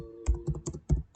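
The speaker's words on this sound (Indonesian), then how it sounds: "kita coba kita ketik di sini berkebun kopi" Quick bursts of keystrokes on a computer keyboard, about half a dozen clicky taps in an uneven rhythm, close and fairly quiet with no talking.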